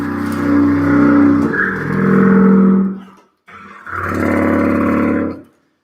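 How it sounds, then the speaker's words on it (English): Deep, growling octocontrabass clarinet played with a contrabass mouthpiece and contrabass reed, sounding two loud sustained low notes separated by a short breath pause, rough and buzzy, with no talking. "So I have the Octocontrabass Clarinet here. So it's a contrabass mouthpiece with a contrabass reed."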